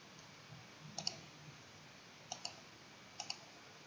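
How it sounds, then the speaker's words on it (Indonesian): Mouse buttons clicking while working in PowerPoint, quiet close clicks arriving in three quick pairs against a near-silent background. "Kemudian Anda klik fotonya."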